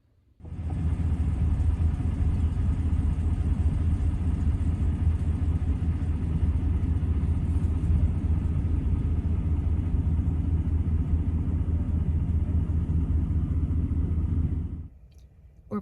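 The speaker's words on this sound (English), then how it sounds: "We're back in the truck" A truck engine rumbles steadily from inside the cab, a loud, even low drone that holds for about fourteen seconds before cutting off sharply near the end.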